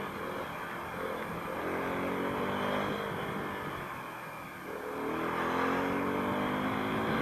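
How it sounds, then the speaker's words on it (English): A motorcycle engine drones steadily, dips as the rider brakes and downshifts without the clutch, then rises again as it accelerates away, heard from the rider's position through wind noise, with no talk. "I'm braking, clutchless downshift. I'm already in the right gear. I don't need to mess around with the clutch, and I can zoom off again."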